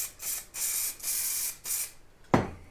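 Short hissing bursts of spray are applied to a sea foam diorama model, four even blasts in a row followed by a sharper thud near the end, close and fairly quiet.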